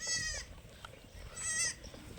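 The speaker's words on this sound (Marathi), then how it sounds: "तिसरं वेत आहे आणि शेळी मित्रांनो फ्रेश आठ दात करत आहे" A goat at a goat farm bleats twice, two wavering nasal cries about a second apart, fairly close over faint background noise.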